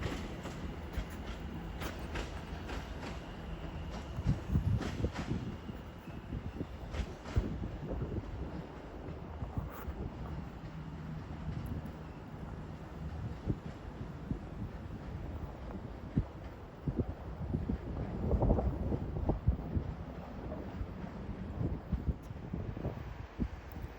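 Class 390 Pendolino and class 710 electric trains pass through Watford Junction on the West Coast Main Line, a low rolling rumble that swells and fades, with wind buffeting the microphone and no talking.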